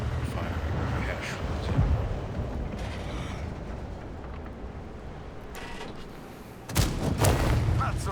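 Tank cannons firing in World of Tanks on the Nordskar map, heard as a continuous rumble of booming shots with a loud, close blast near the end.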